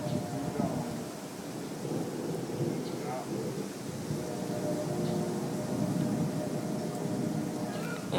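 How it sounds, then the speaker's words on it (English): Thunder rolls in ahead of a big storm, a low continuous rumble at moderate distance with a soft rain-like hiss underneath, steady and unbroken throughout. "Looks like it's gonna be a pretty big storm."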